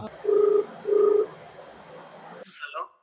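A telephone call is placed: two short ringback tones pulse in a steady pattern over faint room noise, then a brief burst of voices follows.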